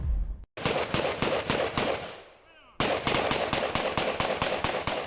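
Rapid gunfire at military tactical shooting training, loud close shots in quick succession, a brief pause with a faint whistle-like sweep, then the shots resume.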